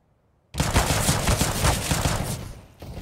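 Dense, loud automatic gunfire from a Counter-Strike match in an ESL Pro League game, a sustained burst of rapid overlapping shots starting abruptly after a brief silence.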